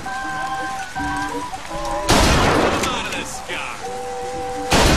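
Shotgun blasts in the video game Bioshock Infinite, two or three loud booming shots cutting over tonal game music and effects, with a voice briefly heard.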